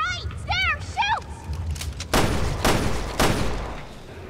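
Gunfire in the video game Resident Evil Revelations 2, a few loud sharp bursts in the second half, preceded by brief whooping electronic sounds, with game noise and a voice in the background.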